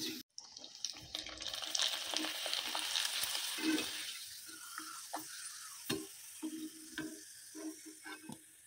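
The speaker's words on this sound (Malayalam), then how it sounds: "നമ്മുടെ ബീട്രൂട്ട് വറ്റലൊക്കെ നന്നായിട്ട് ഞാൻ വറുത്തെടുത്തിട്ടുണ്ട്" Beetroot slices frying in oil for beetroot pappadam, a steady sizzle with stirring clatter and a brief water-tap splash, the sizzle easing off as it goes on; no one speaks.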